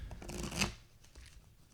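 Playing cards being shuffled: one brief riffling burst, moderately close, then near silence.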